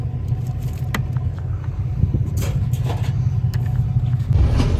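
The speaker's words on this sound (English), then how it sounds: "we just drove across the scale and we got our dry weight" A vehicle hauling copper scrap rolls across a scrap yard weighing scale, a steady low engine rumble with a few clanks and thumps, close and moderately loud.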